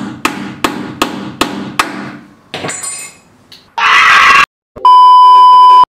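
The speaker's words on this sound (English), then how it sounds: "drove the nails in using a hammer again and again" Five sharp hammer blows drive nails into a wooden sofa frame in a quick steady rhythm, followed by scraping, a burst of noise and a long electronic beep.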